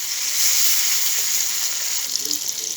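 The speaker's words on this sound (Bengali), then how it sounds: "দিয়ে দেব কুচিয়ে রাখা টমেটো। এটাকে আমি তেলের সাথে একটু ভেজে নেব।" Chopped tomatoes sizzling in oil with fried onions, a loud, dense hiss of frying that stays steady, with a few light crackles toward the end.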